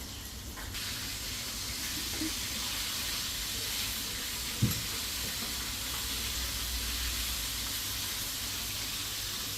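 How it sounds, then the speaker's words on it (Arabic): Tap water runs steadily under hands being washed, a constant close hiss of flowing water with one faint knock partway through. "بصوا اغسل ايدي كويس."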